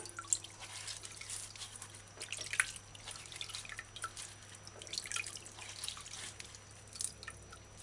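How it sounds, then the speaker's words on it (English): Hands rub a pineapple's skin in a bowl of water, giving soft sloshing and a steady patter of drips that continue close by and alone. "Add enough water into the bowl. Use your hands and your fingers. Rub the pineapple skin clean."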